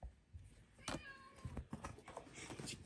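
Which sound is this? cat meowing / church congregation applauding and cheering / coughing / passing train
cat meowing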